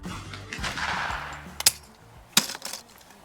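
Two sharp shotgun blasts from a Browning shotgun at an outdoor clay shoot, spaced about a second apart over a low background rumble, loud and fairly close.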